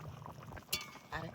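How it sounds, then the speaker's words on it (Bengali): A lid is lifted off a pot of cooking mustard-poppy seed curry, giving two brief faint clinks over a quiet background. "এবার ঢাকনাটা খুলে দেই কেমন হয়েছে।"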